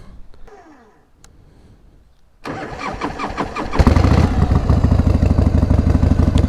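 Harley-Davidson Evo Softail motorcycle with sidecar cranks over and fires up, settling into a loud, steady, throbbing idle close by after a quiet start.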